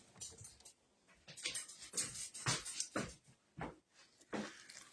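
Dogs whimper and pant in a home kitchen in short, breathy bursts close to the listener, with quiet gaps between them.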